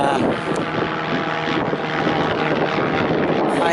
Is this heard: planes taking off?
yes